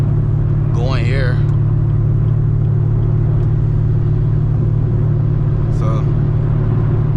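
Chevrolet Camaro ZL1 running on E85 fuel, heard from inside during a road drive: a steady, loud low engine drone holds throughout, with a brief spoken word near the start.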